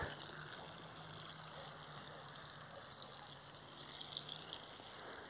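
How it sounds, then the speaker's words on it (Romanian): Water poured slowly onto newly planted trees in late December, a soft, steady trickle and splash over soil, faint and continuous with light background hiss. "Așa că încet, încet, la fiecare pom nou plantat, am să pun apă chiar dacă suntem la sfârșitul lunii decembrie."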